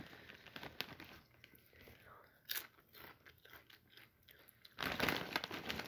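Pickle-flavored potato chips crunch in a few loud bites close to the mic, with quieter chewing and soft murmured talk in between.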